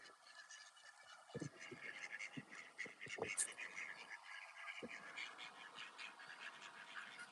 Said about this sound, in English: And then you got the baby ducks, the ducklings there as well.